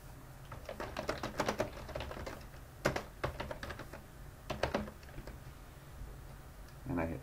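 Someone types a text message on a computer keyboard in a quiet room, with soft, close keystrokes coming in irregular bursts and a short pause near the middle.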